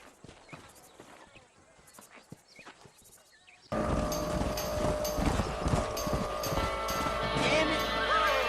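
Several horses gallop and neigh in the Red Dead Redemption video game, outdoors near Armadillo. A quieter stretch of hoofbeats jumps to a loud, dense burst of pounding hooves and whinnies that carries through to the end.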